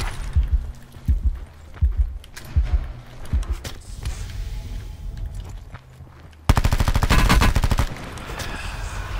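Automatic gunfire in Call of Duty Blackout: a string of sharp, loud shots in bursts, ending in a dense, rapid volley of close fire.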